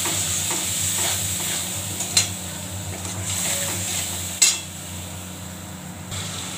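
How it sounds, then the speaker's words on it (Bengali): A spice paste with salt and a splash of water sautés in a pan, giving a continuous sizzle under repeated stirring scrapes, with two sharp utensil knocks against the pan. "এবার ভালো করে কষিয়ে নেব"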